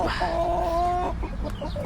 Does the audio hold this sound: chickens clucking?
yes